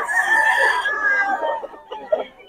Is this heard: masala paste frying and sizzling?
no